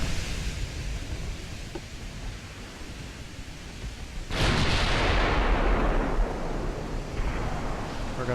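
Warship guns fire in the naval video game Ultimate Admiral: Dreadnoughts: a single heavy, booming salvo midway, loud and rumbling, that fades slowly over steady background noise.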